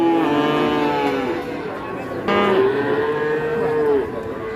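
Cattle moo loudly and close by, two long drawn-out lowing calls in a row, from a large cow that refuses to walk off a truck.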